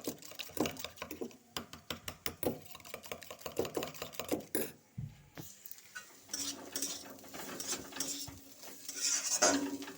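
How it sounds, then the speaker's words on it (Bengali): An egg beaten by hand with a pinch of turmeric and Maggi spice mix in a bowl, giving a quick run of close, rapid clinks and taps against the bowl's side that pauses and then gives way to softer stirring and scraping. "এই ডিমের মধ্যে সামান্য হলদি গুঁড়া আর সামান্য ম্যাগির মশলা দিয়ে গুলিয়ে নিচ্ছি।"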